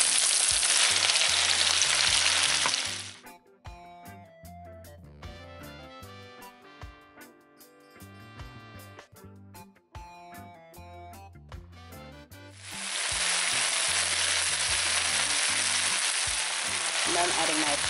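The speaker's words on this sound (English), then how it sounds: "Okay, now I'm adding my kale." A pot of smoked turkey and sausage black-eyed pea stew sizzles loudly as kale goes in, with a steady hiss at the start and end and a quieter stretch of background music in between.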